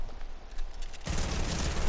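Gunfire from a Variant Infantry Rifle in Fortnite Battle Royale: quiet, faint action for about a second, then a loud, dense burst of sharp shots that fills the rest, with no talk.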